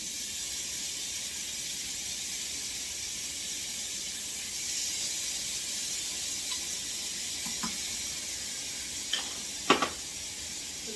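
Onions fry quietly in a pan for lasagna, a soft, even high sizzle holding steady throughout, with a few light utensil taps near the end and no talking.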